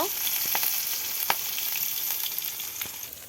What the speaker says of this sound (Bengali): এবার পটল আলুর তরকারি রান্নার জন্য পেঁয়াজ কুচি আর কাঁচামরিচ কুচি দিয়ে দিল।